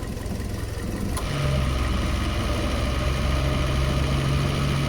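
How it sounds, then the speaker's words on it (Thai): A Toyota Vios engine with about 260,000 km idles steadily, and a low mechanical hum sets in partway through as the noisy air conditioning compressor kicks on, with no voices. "ได้ยินเสียงคอมชัดเจนนะครับ"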